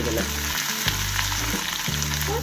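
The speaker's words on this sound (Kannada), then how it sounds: "ಈಗ ಇದಕ್ಕೆ ಹಸಿಮೆಣಸಿನ್ಕಾಯಿನ ಹಾಕ್ತೀನಿ ಹಸಿಮೆಣಸಿನ್ಕಾಯಿ ಕರಿಬೇವು ಈರುಳ್ಳಿ ಕೆಂಪಿಗೆ ಕೆಂಪಗೆ" Green chillies, curry leaves and onion fry in hot oil for a jowar kichadi, a continuous, close sizzle with a low steady hum underneath and no talking.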